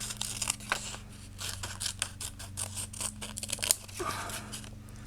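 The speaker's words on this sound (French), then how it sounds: "Couper là." Scissors snipping through glossy magazine paper for a collage, a quick run of close, crisp cuts and rustles, faint and unaccompanied by speech.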